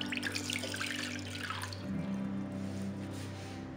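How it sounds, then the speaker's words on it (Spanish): Water is poured into a bowl with a close, bubbling splash that settles into a lower, fuller trickle as the bowl fills, heard alone for a few seconds. "en un tazón vamos a colocar agua"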